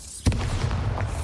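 A Bombarda blasting spell cast in a wizarding video game, one sharp booming burst followed by a short rumbling tail and faint background game sounds.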